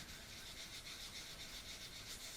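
A steady, soft rubbing hiss comes from hand-sanding dents out of the finish on an acoustic guitar, a continuous close scratchy sweep with gentle rhythmic pulses as the paper circles.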